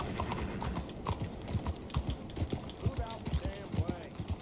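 Hooves of a horse in the video game Red Dead Redemption 2 clip-clop in an irregular walking rhythm, close and fairly loud, with a player talking over it and a brief whinny-like sound.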